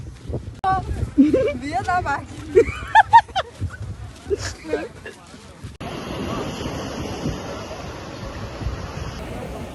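Steady roar of surf and wind fills the second half, following a stretch of talking voices with busy noise underneath.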